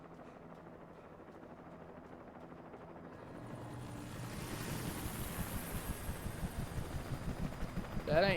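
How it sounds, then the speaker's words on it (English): A police helicopter in the video game Alan Wake approaches, its rotor noise growing from a faint rumble into a loud, rhythmic chopping thump overhead, with a voice briefly heard at the end. "That ain't no normal police helicopter."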